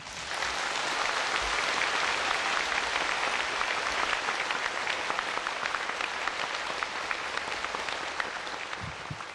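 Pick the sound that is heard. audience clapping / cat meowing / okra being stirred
audience clapping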